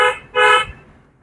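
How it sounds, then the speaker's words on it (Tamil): A car horn sounds during a U-turn driving lesson: two short honks, the second slightly longer, loud and close, with light traffic noise in between and no talking. "One more horn."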